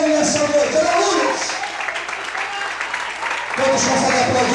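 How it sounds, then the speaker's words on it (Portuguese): A church congregation claps and applauds during a service, a dense patter of many hands that swells, dips in the middle and then rises again, with a voice speaking over it. "Todos conseguem aplaudir ao Senhor."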